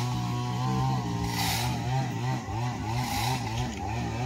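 A distant chainsaw drones steadily, its engine pitch wavering up and down as it cuts a tree, heard from afar over outdoor background.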